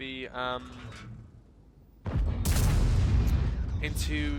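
An M103 heavy tank cannon fires in World of Tanks on the Paris map: a sudden loud, broadband blast that roars on and fades slowly, following a short stretch of speech.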